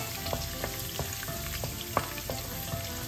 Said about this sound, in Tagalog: iulog natin ang bawang guys